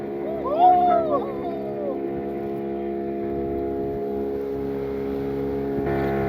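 A motorboat on Pykara lake near Ooty hums with a steady, tonal engine drone heard close from on board, while a voice briefly calls out near the start.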